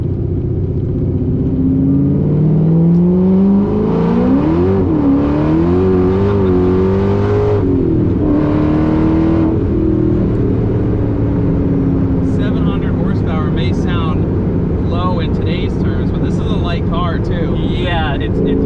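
Ford GT engine pulling hard up to speed on a highway, a steady loud drone rising in pitch through a long gear, with someone talking over it throughout.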